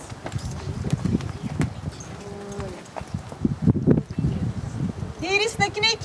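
A young pony's hooves clop slowly on the ground as it is led aside, soft irregular steps close by under steady talk from people, with rustling in the background.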